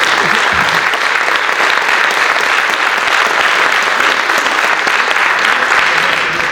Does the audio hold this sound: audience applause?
yes